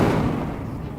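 An Incendio fire spell cast in Hogwarts Legacy, a single brief whooshing burst that fades out within a second.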